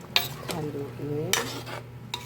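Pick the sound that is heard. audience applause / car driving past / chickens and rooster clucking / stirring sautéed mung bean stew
stirring sautéed mung bean stew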